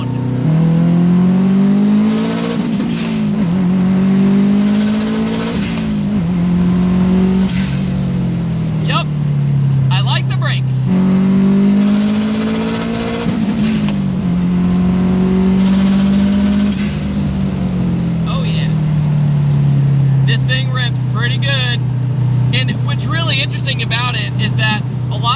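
A 450 hp Subaru revs hard through rising and falling acceleration sweeps, loud and close, with gear changes breaking the climbing engine note and a rattly burble as it settles toward the end.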